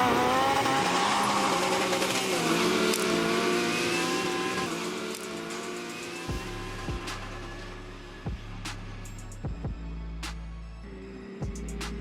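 A BRP Maverick 1000 Turbo side-by-side and a custom buggy with a 2-litre Honda K20 engine rev hard in a drag race, engines rising in pitch as they accelerate past, then fading into a lower drone with short bursts.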